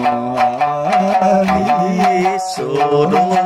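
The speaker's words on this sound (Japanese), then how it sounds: "今はベース音を弾いてもらってます。" A four-string sanshin plucks a steady run of sustained bass notes with bright harmonics, playing continuously at close range before a brief pause near the end and resuming.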